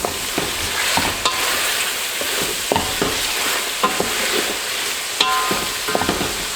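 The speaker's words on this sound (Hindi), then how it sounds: "इसको 1-2 मिनट के लिए इसी प्याज और ऑयल के साथ मैं फ्राई करूँगी" Beef pieces frying with onions and oil for yakhni pulao sizzle steadily, close and fairly loud, broken by repeated sharp clicks and scrapes of stirring against the pot.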